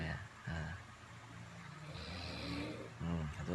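Snoring in a snoring contest at a 17 August Independence Day celebration in Indonesia: rough, rasping breaths rise and fall in uneven bursts, with murmuring voices and crowd noise mixed underneath.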